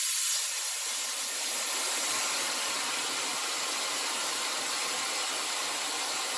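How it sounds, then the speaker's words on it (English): Compressed air hisses steadily out of an air gun regulator being degassed during disassembly, a loud, continuous broadband rush that holds level for several seconds with no talk. "You may have to turn it in a couple times in order to get it completely degassed"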